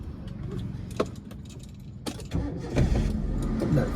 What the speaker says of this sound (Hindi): इंजन ऑन हो गया